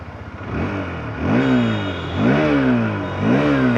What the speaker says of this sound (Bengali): এক্সস্ট সাউন্ডটা একটু দেখে নেই মোটামুটি অ্যাগ্রেসিভ এক্সস্ট সাউন্ড এটাতে ইউজ করা হয়েছে